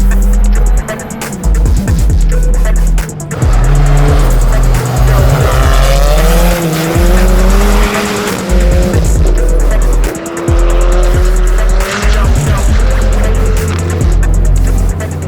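A four-wheel-drive rallycross car engine at full power, loud and close from on board, with gear changes and long stretches of squealing, skidding tires through the corners, continuous throughout.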